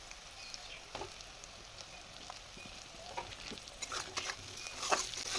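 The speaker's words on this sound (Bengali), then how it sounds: "টমেটোটাকে কিছুক্ষণের জন্য নাড়াচাড়া দিয়ে নেব" Chopped tomato stirred into browned onions frying in a pan: a soft, steady sizzle with scattered scraping and tapping strokes of the spoon that grow busier toward the end, fairly faint and close.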